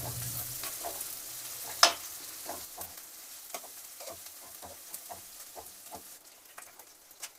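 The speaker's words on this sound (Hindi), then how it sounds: "प्याज को भी हम हल्का सा भून लेंगे हम" Sliced onions fry gently in a pan for a potato and broad bean curry, with a soft steady crackle and scattered small pops and spatula taps, heard close and fairly quiet with no speech.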